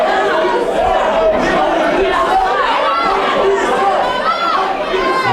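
A wrestling crowd of fans chattering and calling out, a dense steady murmur of many voices close around, with a few louder individual shouts rising above it.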